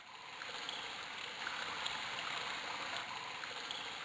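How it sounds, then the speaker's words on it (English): Water spraying onto a floor in a video game, a soft steady hiss of rushing water that stays fairly quiet and even throughout, with no voices. "Water is spraying the floor."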